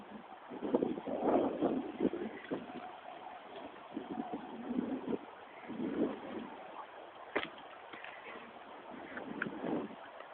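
Gusty wind buffets the microphone in uneven rumbling bursts, rising and falling with no other clear sounds.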